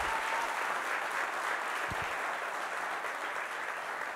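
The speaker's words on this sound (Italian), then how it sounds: "Non mi faccio fare manco un applauso." Audience applause at a live Italian comedy show, a steady wash of many hands clapping at moderate distance, even and continuous with no voices standing out.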